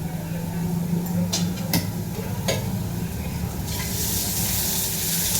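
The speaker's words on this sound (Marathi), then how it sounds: "बघा कांदा टाकून घेते" Onion dropped into hot oil in a home kitchen, a steady close sizzle and hiss with a few stirring clicks, the frying swelling louder toward the end, a voice faintly present underneath.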